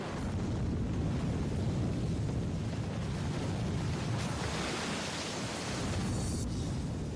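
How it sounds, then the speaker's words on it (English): A loud, steady roar of water rushing out from behind a collapsing cofferdam, dense and continuous for the whole stretch with no voices. "As the cofferdam crumbles, it unleashes the water stored behind it."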